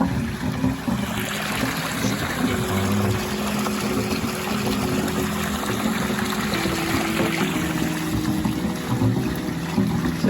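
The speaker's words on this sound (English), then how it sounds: "So there's the water coming out" Steady rushing and gushing of water flushing out of a raised wooden koi pond filter, with a low mechanical hum underneath, continuous and fairly loud.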